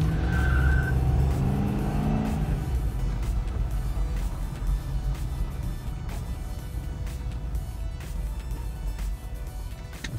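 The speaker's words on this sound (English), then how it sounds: "Want to hear them tires?" A Crown Victoria launches hard, its tires squealing briefly as the engine revs, then a loud, rough roar of acceleration carries on close by.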